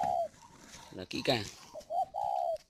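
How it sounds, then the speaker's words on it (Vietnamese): A pigeon sitting on eggs gives deep, throaty coos, a few short calls at the start and end, while a person talks nearby between and over them. "nó biết là nhặt trứng của nó đi là nó cũng mắng mình đó"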